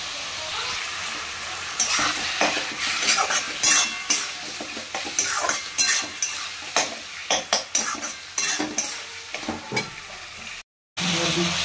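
Chopped chicken breast pieces sizzle steadily in a pan while being stirred, with repeated scraping strokes of a utensil over the frying, close and fairly loud, with a brief silent gap near the end.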